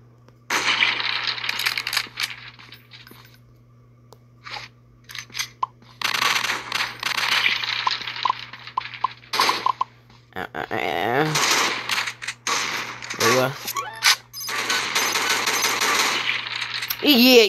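Gunfire in a sniper video game comes in scattered bursts of rapid, clattering shots, separated by brief quiet gaps and some whooshing effects, loud and close throughout.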